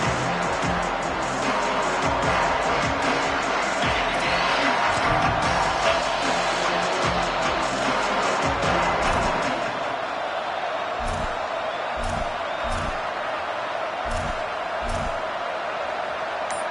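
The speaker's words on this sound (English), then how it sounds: "This crowd bringing the energy and noise early." Constant crowd roar at a college basketball game between Indiana and Michigan, loud and sustained, with scattered ball bounces and sharp slaps ringing out in the later half.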